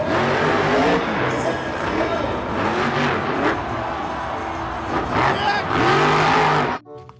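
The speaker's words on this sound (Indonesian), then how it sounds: "ada mobil truk monster." A toy monster truck's engine revs loudly and continuously, with rising and falling pitch sweeps and a racing, crowd-like roar, before cutting off abruptly near the end.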